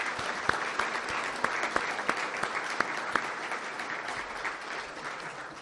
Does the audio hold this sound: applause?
yes